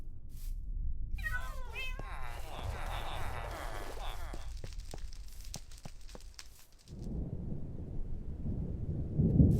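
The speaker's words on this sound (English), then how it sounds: "I hear thunder." Low rolling thunder from a storm in modded Minecraft builds and swells over the final few seconds, after a stretch of other game sounds that include a cat meowing.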